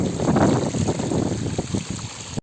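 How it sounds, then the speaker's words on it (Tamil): A small waterfall cascades at a hillside farm, a steady close rush and splash of flowing water that continues evenly and then cuts off abruptly. "குட்டி அருவியாட்ட நல்லா இருக்குது. அருவி நல்லா இருக்குது."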